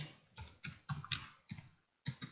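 Bursts of typing on a computer keyboard while entering Arduino code, clusters of quick clicky keystrokes separated by short pauses, close and moderately quiet with no talking.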